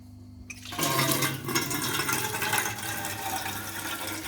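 After a quiet start, water suddenly gushes out of an opened drain tap on a farm water filter and keeps rushing and splashing steadily, a loud continuous flow close by.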